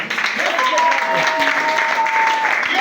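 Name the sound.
congregation applauding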